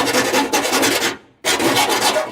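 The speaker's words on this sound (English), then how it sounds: "Let's deburr some of these sharp edges" Sharp metal edges are deburred while fitting a cooling fan kit on a 1953 Chevy, two bursts of harsh, loud scraping filing strokes close up, separated by a brief pause, with no talking.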